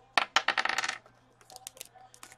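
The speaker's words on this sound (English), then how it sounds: "Roll a dice for it" Dice tossed during a sports card box break, clattering in a quick run of sharp hard taps that tumble and settle, followed by a few lighter scattered clicks, close and clear with no talk.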